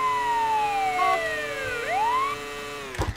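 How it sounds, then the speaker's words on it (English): A vehicle siren in the video game Lego Worlds sweeps up and down in overlapping wailing tones, then a few low bumping thuds near the end. "But we also have the sirens on this."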